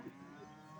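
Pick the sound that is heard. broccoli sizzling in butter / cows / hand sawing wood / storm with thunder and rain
cows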